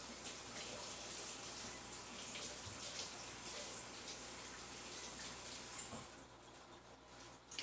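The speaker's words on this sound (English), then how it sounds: "You wash this in the sink real fast." Celery stalks rinsed under a running kitchen sink tap: a steady, close rush of water pouring and splashing for several seconds, easing briefly near the end, with no talk.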